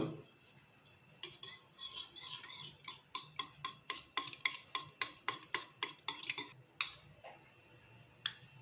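Egg and chopped onion for an omelette whisked in a bowl, a quick run of rhythmic utensil clicks against the sides, fairly close and clear, with no speech.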